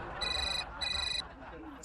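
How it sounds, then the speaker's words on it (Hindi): A mobile phone rings in two short electronic trill bursts, clear and fairly close, followed by a brief quiet tail with faint room noise. "ये लो माधुरी भाभी का फोन"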